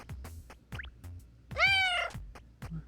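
A cartoonish cat meows once in the game Forager, a short bright tonal call over soft game sound effects and low background tones.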